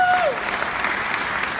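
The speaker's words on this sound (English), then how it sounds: "Round of applause for Bill and Don." Audience applause for Bill White and Don Coyhis at a moderated talk, steady dense clapping from a crowd filling the whole moment, with a brief tonal chirp at the start.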